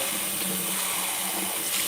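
A NanoFoamer milk frother rinsed by spinning it through water, giving a brief, steady churning and splashing sound that stays close and continuous with no talking.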